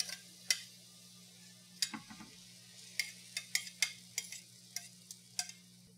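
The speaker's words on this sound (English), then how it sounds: "you do want to give your pasta a little stir so it doesn't all clump together" Pasta being stirred in a pot makes light, scattered clinks and scrapes against a steady low hum, with no talking.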